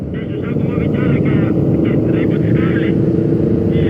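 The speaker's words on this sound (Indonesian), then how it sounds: "bakalan keganggu dengan suara knalpot" Motorcycle exhaust droning steadily and loudly up close during a group night ride, a continuous rumbling roar that holds from start to end.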